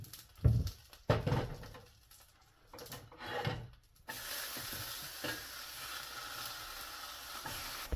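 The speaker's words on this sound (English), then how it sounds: "I like a little crispy layer in my pancakes. So I like them a little fried." Blueberry pancakes fry in a hot pan, with a few soft scraping and stirring knocks at first, then a quiet, steady sizzle that runs on evenly.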